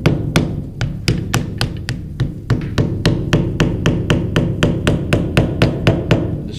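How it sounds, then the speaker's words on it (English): A small hammer taps a stump grinder clutch part into place, with steady, closely spaced metallic knocks repeating about three times a second, close and clear with no talking. "I just take this little hammer here. I'll just tap it down in there."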